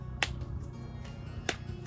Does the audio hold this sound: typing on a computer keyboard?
no